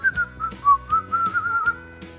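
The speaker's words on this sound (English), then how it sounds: "Whistle while you stir." Someone whistles a short, wavering melody alone while stirring toffee in a kitchen, with soft knocks and clicks in the background.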